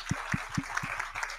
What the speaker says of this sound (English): Let's get a round of applause for our sponsors.